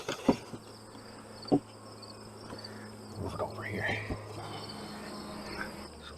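A nuc box of honey bees being moved gives off a continuous buzz, broken by a few sharp knocks and shifting thumps as the box is handled.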